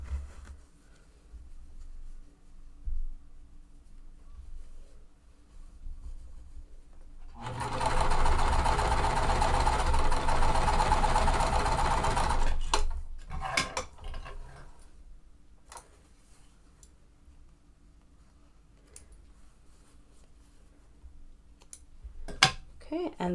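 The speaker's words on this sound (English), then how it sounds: "And I'm going to chain stitch these." Sewing machine chain stitching quilt squares in a steady five-second run of rapid stitching, close and clear, between quieter stretches of handling and a few soft clicks.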